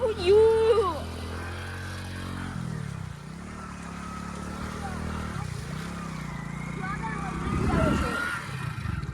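A motorcycle engine hums steadily as it rides along, with voices talking over it and a rising rev near the end.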